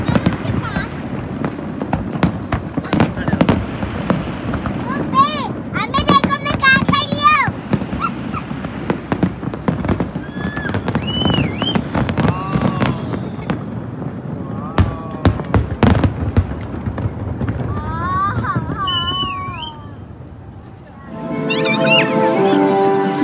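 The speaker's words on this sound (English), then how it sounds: "What you have seen is the great drone show and the firework show from this beautiful place." Fireworks bursting over Bluewaters Island in Dubai during a combined drone and firework show, a steady run of booms and crackles that lasts throughout, with crowd noise, voices and scattered high whistles mixed in.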